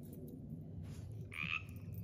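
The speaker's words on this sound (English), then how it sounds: "Did you hear that frog? It's a teensy, teensy one." A tiny frog in a forest gives a single short croak partway through, close and clear against quiet woodland background hum.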